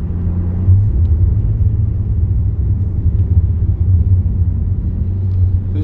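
A 700 hp Ford G6ET with a Barra engine and Kayhan paddle shifters cruising on the Albert Park Grand Prix circuit in Melbourne, a loud, steady low engine rumble heard from inside the cabin.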